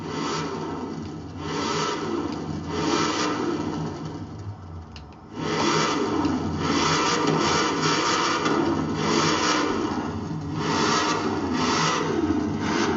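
Corvette C7 Z06 engine in Forza Horizon 4, no supercharger, a rasping engine roar rising and falling in repeated rev surges, dipping briefly midway before returning loud and sustained.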